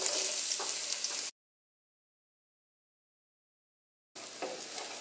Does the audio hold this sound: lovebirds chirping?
no